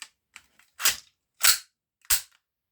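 A Desert Eagle softair pistol fires three sharp, loud, close shots about two-thirds of a second apart, preceded by a few faint clicks of handling, with no speech.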